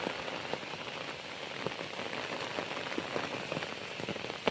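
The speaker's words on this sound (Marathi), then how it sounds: "एकदम जोराचा पाऊस आलाय." Heavy monsoon rain pours steadily in a Sahyadri hill village, a dense, loud, continuous hiss with occasional sharper drops spattering close by.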